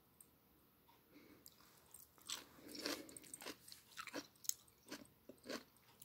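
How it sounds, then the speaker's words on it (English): Someone eating unhealthy snack foods, crunching and biting in a series of close, uneven bites with soft chewing between them, no talking. "you see me crunching"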